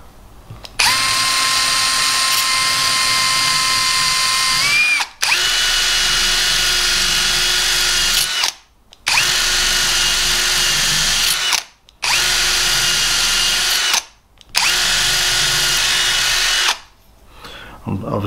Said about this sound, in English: I think in there we'll just get this little drum sander.